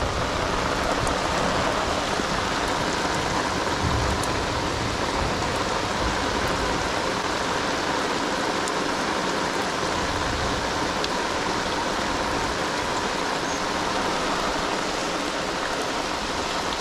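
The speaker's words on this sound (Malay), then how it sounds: "Mancing dalam hujan." Steady rain falls outdoors during a fishing outing, a dense, even hiss of drops pattering on surfaces without letup, close and fairly loud throughout.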